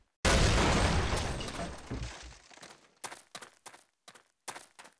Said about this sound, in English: Explosives. Let's shoot them.